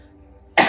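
A single short cough from a throat dried by smoke comes out sharply after a near-silent pause and ends the clip.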